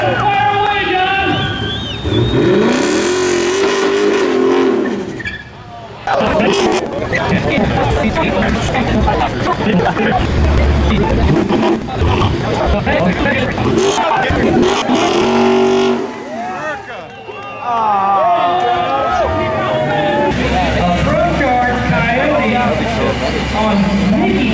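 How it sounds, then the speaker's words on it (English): A car revs hard and spins its tires in a burnout contest at a street car meet, engine roars rising and falling in loud bursts with brief lulls, crowd chatter and talk mixed in throughout. "We're gonna do a burnout contest."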